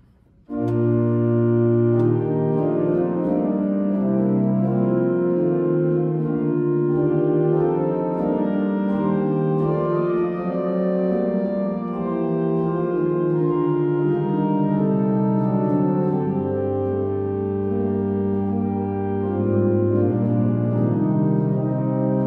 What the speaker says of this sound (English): The most basic sound, the open diapason, which is an 8-foot stop